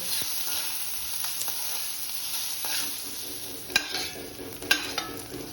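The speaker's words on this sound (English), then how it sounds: "And to that I'm going to add my finely chopped onions. And just fry it a bit till it's slightly brown." Finely chopped onions fry in a hot pan, giving a steady soft sizzle with a few sharp scrapes and clicks as they are stirred.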